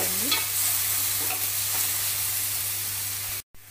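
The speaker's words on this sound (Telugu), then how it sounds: "కొంచెం వేసి కలుపుకుంటే అడుగు అంటకుండా ఉంటుంది." Dried anchovy curry is stirred in a frying pan, giving a continuous loud sizzle with soft scraping of the spoon, alone and close, ending abruptly.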